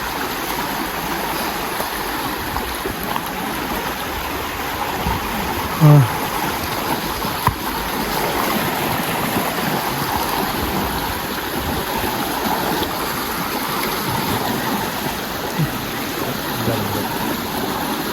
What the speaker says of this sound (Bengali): ওই পানির স্রোত।